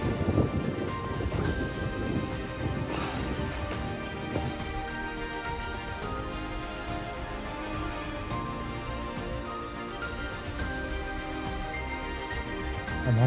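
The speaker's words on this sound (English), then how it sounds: "It's very windy up here." Steady wind buffets and rumbles against the microphone on an open hilltop in the Drakensberg foothills, continuous and fairly loud, with no voices.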